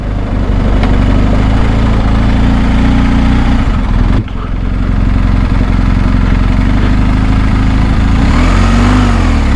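A BMW R 1250 GSA motorcycle engine drones loudly while riding on a morning ride in New Jersey, a strong steady low rumble with a brief dip in power midway, under wind noise.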